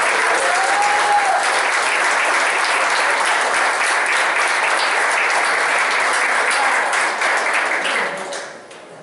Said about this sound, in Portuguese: Salva de palmas para o Mário.